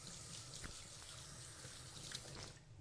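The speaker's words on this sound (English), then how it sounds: "Wash my hands real quick." Tap water runs steadily into a sink while someone washes their hands in a home kitchen, a continuous soft splashing rush with no talking.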